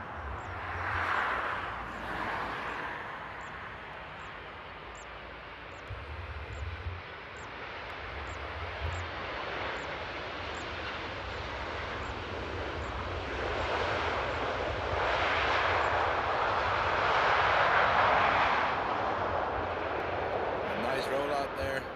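A heavy airliner lands and rolls out at Paris Charles de Gaulle airport, its broad engine roar rising and swelling over about twenty seconds while someone talks over it.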